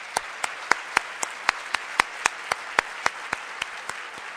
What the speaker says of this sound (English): Please help me give them a big round of applause.